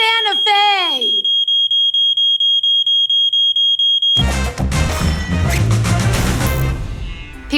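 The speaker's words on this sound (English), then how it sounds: "It's a defective detector." A defective smoke detector sounds a steady run of rapid high-pitched beeps, piercing and close, after a brief vocal sound; then a loud burst of crashing, music-like noise takes over.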